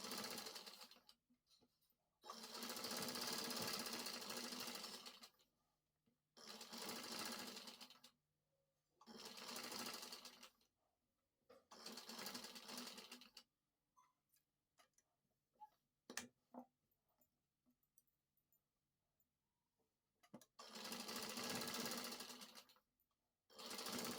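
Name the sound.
sewing machine stitching a blouse neck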